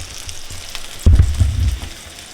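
An egg frying in a pan gives off a soft, steady sizzle, which swells briefly with a louder crackle and bump partway through before settling down again, all heard up close.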